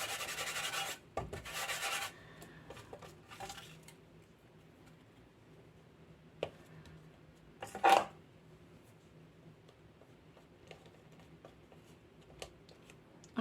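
An anti-static embossing pouch is rubbed over cardstock in several short, soft scuffing strokes, faint and close, with small taps and handling noises between them.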